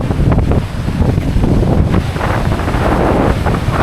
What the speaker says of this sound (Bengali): ভয়ঙ্কর বাতাস